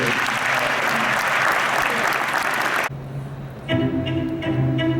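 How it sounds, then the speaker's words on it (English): Audience applause fills the hall for nearly three seconds, dense and steady, then cuts off abruptly and gives way to a short stretch of sustained music-like tones. "Have a round of applause."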